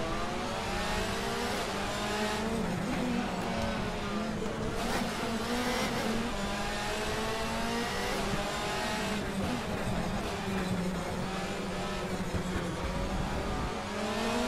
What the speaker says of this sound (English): I like the bass sound when you go over the rumble strip